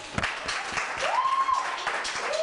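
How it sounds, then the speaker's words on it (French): Studio audience on a French-language variety show applauds a guest invited onto the set, a steady wash of clapping with a host's voice and a rising tone briefly over it. "Applaudissez."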